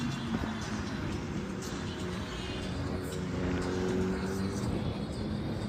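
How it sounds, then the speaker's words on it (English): A Kawasaki ZX-10R sport motorcycle arrives at a Mustang Week car meet, its engine a steady, fairly loud drone with a humming harmonic whine that swells slightly, while people talk nearby. "He's on his way right now with his ZX-10R."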